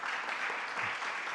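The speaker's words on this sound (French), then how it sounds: "Oui, on peut l'applaudir." A seated audience claps for a speaker named Florian at a talk on a just ecological transition, a brief dense burst of steady applause at moderate distance with no voices.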